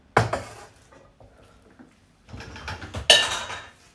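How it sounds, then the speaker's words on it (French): Dishes and cutlery clink and clatter while a dishwasher is loaded, with a sharp knock at the start, scattered light clatter, and a louder burst of rattling near the end. "le lave-vaisselle."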